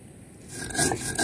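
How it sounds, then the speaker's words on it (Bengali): Mustard, poppy seed, garlic and black cumin are ground together into a paste, a brief close rasping scrape that builds in loudness with short rubbing strokes. "এবার আমি সমস্ত মশলা একসাথে মিশিয়ে বেটে নিচ্ছি।"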